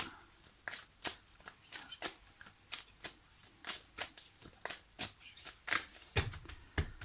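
Tarot cards being shuffled by hand, a rapid run of crisp riffling bursts in an uneven rhythm, close and fairly quiet, with no talking.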